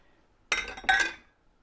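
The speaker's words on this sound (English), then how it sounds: "we are just dissolving the sweetener in here. Don't have to whisk it very vigorously." Whisk clinking against a glass bowl while dissolving sweetener in liquid for a canned beetroot salad, two short bright taps in close succession, near and clear.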